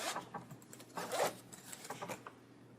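A zipper on a Klein 55485 tool backpack compartment is pulled open or closed, a short close scratchy rasp with uneven pulls and small rubbing sounds lasting a few seconds.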